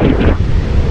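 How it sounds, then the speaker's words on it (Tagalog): Strong seaside wind buffets the microphone on an island shore, a loud continuous low rumble with gusting swells throughout, and no voices. "Ayan, malakas ang hangin."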